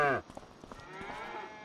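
Cattle, including Brown Swiss, mooing in the video game Farming Simulator 25 with one low moo at the start, followed by a steady background of farm ambience and no talking.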